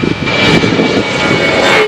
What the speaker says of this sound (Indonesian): Wow, pesawat Lion Air.